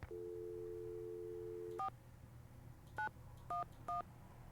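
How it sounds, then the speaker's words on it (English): Telephone dialing in a Nancy Drew video game, a long steady dial tone followed by four short touch-tone beeps pressed at uneven intervals, clean and alone over a faint hum. "It won't let me dial 911 because they're cowards."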